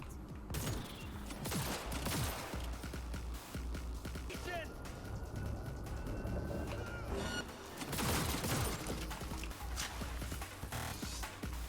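Gunfire in the video game Cyberpunk 2077 comes in scattered bursts and sharp cracks, fairly quiet in the mix, while a person talks over the action.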